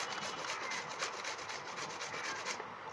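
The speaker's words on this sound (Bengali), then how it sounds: "আমি এখানে একটি মেশিন নিয়েছি, ভাজি কাটার মেশিন।" A vegetable cutter machine shreds raw green mangoes with a steady, raspy scraping that pulses rapidly and evenly, close and moderately loud, ending abruptly.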